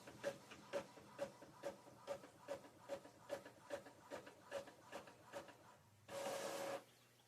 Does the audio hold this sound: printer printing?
yes